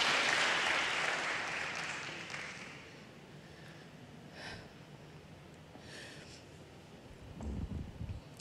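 Church congregation applauding during a sermon, a dense wash of clapping at the start that fades to quieter scattered noise, a few sharp sounds and a low thump near the end.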